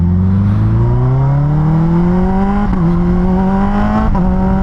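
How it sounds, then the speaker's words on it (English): A Kawasaki H2 motorcycle engine revs loud and close, its whine rising smoothly, dipping briefly at two shift points, then climbing again. "Yeah, baby, we're riding the H2."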